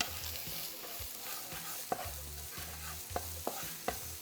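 Shallots frying in oil rendered from chorizo, a steady close sizzle with intermittent stirring clicks and scrapes of a utensil in the pan, no voices.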